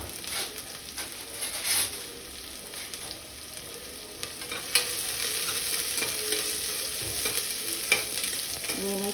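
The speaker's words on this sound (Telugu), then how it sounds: "ఉల్లిగడ్డలు వేసి బ్రౌన్ కలర్లో వచ్చే వరకు వేపాలి." Onions sizzling in coconut oil in a pan, a steady crackling fry with occasional stirring scrapes and clicks, close and moderately loud with no talking.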